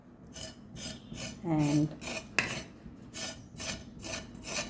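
A knife scrapes the skin off a tender, home-grown salad vegetable in a kitchen, giving repeated close, rasping strokes in a steady rhythm, with a short voice part-way through.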